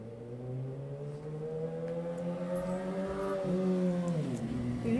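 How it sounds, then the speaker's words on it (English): A motorcycle engine drones steadily as it passes at moderate distance, its pitch holding then dipping near the end, under a faint indoor background. "you hear the motorcycle?"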